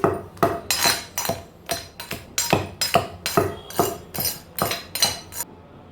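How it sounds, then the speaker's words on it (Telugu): Tomatoes for ridge gourd chutney are pounded with a pestle, giving a steady series of about fifteen sharp thuds up close with faint clinks, evenly spaced and continuous without speech. "టమాటాలు వేసాక కూడా కచ్చా పచ్చగా దంచేసుకోవాలండి"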